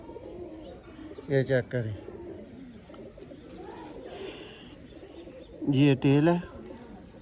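Pigeons from a breeding setup coo in two short, near and clear bursts, with someone talking between them.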